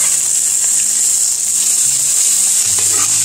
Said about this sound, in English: what we want to do is to brown the cod on all sides